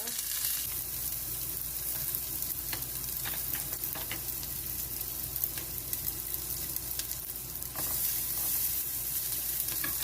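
Garlic sizzling in a hot pan for a stuffed jumbo shells sauce, a steady close frying hiss with crackles and occasional stirring scrapes throughout, continuing as the pan comes off the heat.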